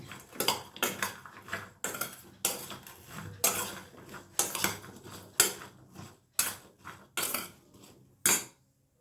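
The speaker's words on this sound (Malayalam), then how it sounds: "ഇതൊരു സ്പൂണും കൊണ്ട് ജസ്റ്റ് ഒന്ന് അങ്ങനെ ഇളക്കിയാൽ മതി" Metal spoon clinking against a bowl while stirring salted okra (vendakka), a series of about a dozen short, close, bright scrapes and taps in an irregular rhythm with brief pauses between.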